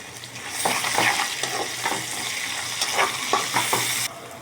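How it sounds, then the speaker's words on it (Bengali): Sliced onions with cardamom, cinnamon, bay leaves and cloves fry in a pan for a beef and radish curry, a continuous loud sizzle broken by repeated spatula scrapes and knocks as the mixture is stirred. "পেঁয়াজটা ব্রাউন করে ভেজে নিব একটু"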